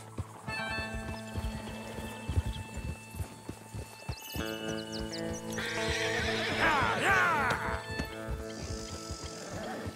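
Galloping horses in Red Dead Redemption 2 drum hooves steadily, then a loud, close neigh and whinnies break out midway, with game music underneath and brief shouts.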